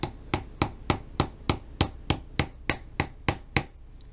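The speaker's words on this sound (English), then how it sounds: "Get your little hammer out." A small hammer taps a pin into a watch bracelet in a steady run of about a dozen sharp, evenly spaced strikes, close up and clear with no voices.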